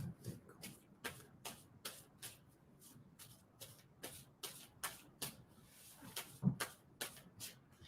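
Playing cards are shuffled repeatedly in a steady run of quick, crisp riffles and taps, close and fairly quiet, with no talking.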